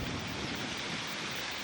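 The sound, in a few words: storm with wind and light rain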